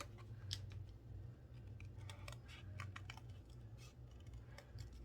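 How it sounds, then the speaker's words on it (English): Scissors fussy cutting leaf shapes from paper for a handmade Thanksgiving card, a steady run of small, close snipping and crisp paper clicks over a low room hum, with no talking. "So I'm just going to fussy cut around this."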